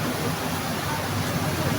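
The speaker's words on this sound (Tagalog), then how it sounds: "malakas ang ulan mga friend uh, dahil malakas ang ulan" Heavy rain pours down steadily, a dense, even hiss filling the short stretch without pauses.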